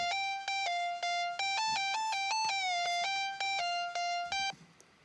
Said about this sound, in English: So that lead just follows the vocal chops to add some more layers to the vocal.